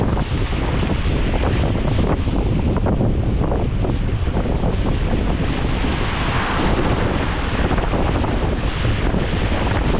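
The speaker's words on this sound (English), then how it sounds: "crazy how weak this camera makes these waves look" Open ocean about 20 miles off the coast of Colombia, heard from a hurricane-damaged catamaran: a loud, continuous roar of wind buffeting the microphone over rolling surf and sloshing waves, with no voices.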